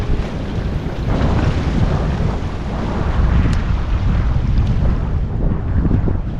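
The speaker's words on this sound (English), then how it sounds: "when the waves are crashing in here," Ocean waves surge and crash against a jetty at North Jetty, Humboldt Bay, Northern California, in a steady, roaring churn during an atmospheric river storm, heavy wind buffeting the microphone throughout with no voices.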